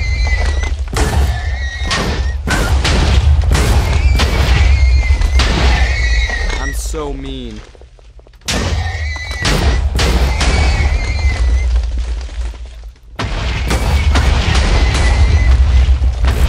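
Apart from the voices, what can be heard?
explosions blowing up horses in Minecraft video game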